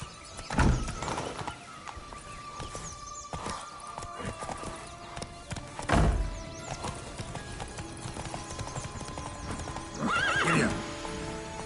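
Horse hooves clip-clop in The Witcher 3 video game, a rhythmic trotting gait running throughout, joined by a whinny or two and a few louder thumps.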